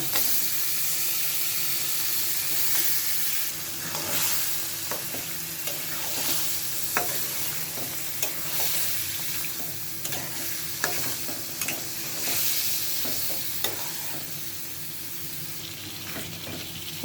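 Duck meat stir-fried in a pan with salt and cooked-down spices, a continuous close hiss of frying with intermittent stirring scrapes and light clinks throughout.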